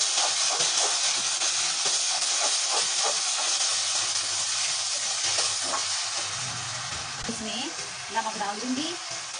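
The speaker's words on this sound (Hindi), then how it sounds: "अब मैं इसमें ये टमाटर डाल दूंगी" Tomatoes tip into a hot pan of browned onions for sarson ka saag, giving a strong, steady hissing sizzle close up, with stirring scrapes and a faint voice underneath toward the end.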